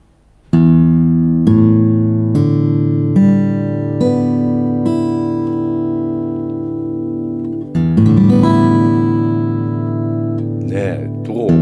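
A Headway HJ-35 acoustic guitar with replaced tuning pegs, strummed on open strings: a loud full chord rings out and decays, followed by several more open-string strums and a final sustained ring.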